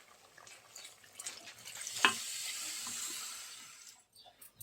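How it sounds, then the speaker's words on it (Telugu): Water poured into a cooking pot of mutton, a rushing splash that swells, holds steadily for a couple of seconds, then fades, with faint clinks around it. "కొన్ని వాటర్ వేసుకున్నాం."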